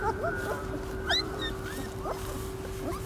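Kangal working dogs whimpering, giving brief, thin, high whines and yips scattered over a steady background hum and noise.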